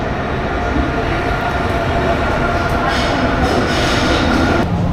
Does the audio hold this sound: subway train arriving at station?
yes